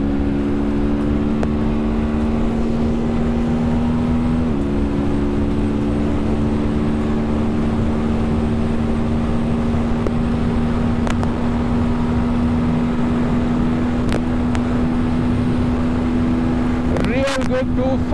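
A TVS Apache RTR310 motorcycle runs hard with a steady, droning engine note that shifts only slightly in pitch. Wind noise and occasional talk sit underneath.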